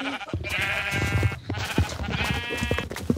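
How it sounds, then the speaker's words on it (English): Sheep in the video game Minecraft bleat over and over, loud and close, with several overlapping wavering calls filling the whole stretch. "Oh, dude, I just saw a ton of sheep."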